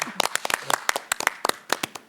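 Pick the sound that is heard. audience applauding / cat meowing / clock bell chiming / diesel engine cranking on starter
audience applauding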